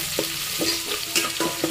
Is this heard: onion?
yes